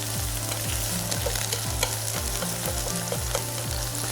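Shrimp frying slowly in a pan, with a steady close sizzle and the repeated scraping of a utensil turning and separating the pieces at a regular rhythm.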